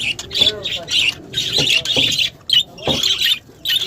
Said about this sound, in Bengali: এগুলোকে মূলত হামিং বার্ড বলা হয় মৌটুসি বাংলাটা বলা হয়